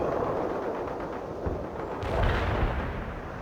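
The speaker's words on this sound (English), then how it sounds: "Fire that missile now!" A missile launched in the war game World in Conflict, a low rumbling blast with a swelling whoosh midway, amid ongoing battle noise.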